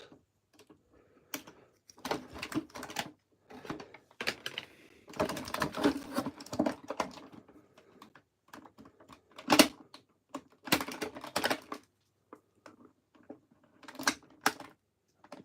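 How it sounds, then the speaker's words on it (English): Snips cutting pieces off a Masters of the Universe action figure. Many short crisp clicks and snaps arrive in irregular clusters with quiet gaps between them, close up and unaccompanied. "So we're going to snip these out."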